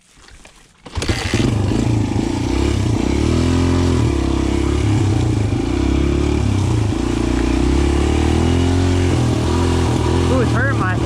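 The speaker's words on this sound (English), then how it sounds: "first ride on the DRZ 125" A 2020 DRZ 125 pit bike engine starts and revs loudly up close on its first ride, a steady buzzing drone rising and falling in pitch throughout.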